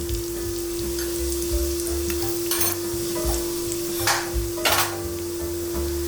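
Cumin seeds, asafoetida and turmeric sizzle in hot oil in a pan for an alu leaf curry, a continuous close frying hiss with a few louder bursts of crackle and a low steady hum beneath.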